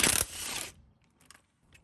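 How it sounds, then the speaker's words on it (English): An impact gun briefly rattles hard on a drive shaft nut under an FJ Cruiser with an automatic transmission, a loud burst under a second long, followed by faint metallic clicks and near silence. "So I got the gun on the nut, and I'm holding the bolt with the box end."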